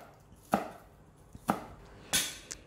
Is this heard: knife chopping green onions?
yes